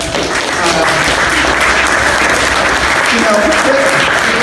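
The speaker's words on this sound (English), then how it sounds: "round of applause again for them" Audience at a graffiti book talk in an arena-style venue applauding loudly and continuously, a dense close roar of clapping with some voices mixed in.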